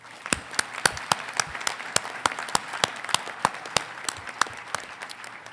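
A commencement audience gives a round of applause for a university brass ensemble. The claps come sparse and sharply separated, fairly steady and moderately close, as a scattering of hands rather than a dense roar.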